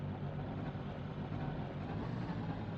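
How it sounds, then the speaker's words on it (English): Steady low racing car engine drone from the video game Race Club on the Miramonti track, a continuous hum held at an even level throughout with no voices. "more specifically, you can hear the car"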